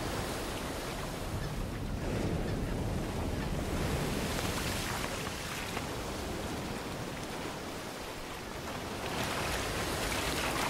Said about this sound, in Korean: 파도가 심한 날엔 더욱 그렇죠.